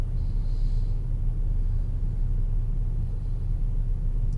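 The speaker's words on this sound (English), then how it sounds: "I'm gonna get on the highway just for a minute just to get it up to speed and just see how it acts" A 2005 GM car with a 4T65-E automatic transmission accelerates onto a highway, giving a steady, loud low rumble of engine and road noise from inside the cabin with no talking.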